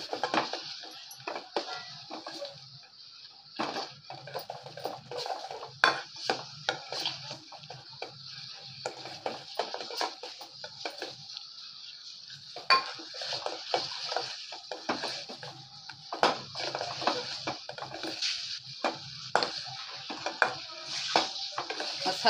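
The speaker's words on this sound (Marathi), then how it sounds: "वाटण छान परतल्यावर आपण त्याच्यामध्ये घालणार आहोत हे सर्व मसाले। तेही छान परतून घेणार आहोत आपण।" Ground coconut-spice paste with added masalas being sautéed for kalya vatancha sambhar, heard as a steady soft sizzle broken by frequent light scrapes and taps of a spoon against the pan.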